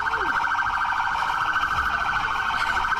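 Police car sirens wailing loud and close in a continuous rapid warbling pattern, steady throughout with no voices.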